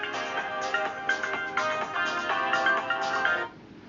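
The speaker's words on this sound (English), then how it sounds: "always get phone calls" A phone rings with an incoming call, a bright melodic ringtone looping loudly for about three and a half seconds before cutting off, with no talking over it.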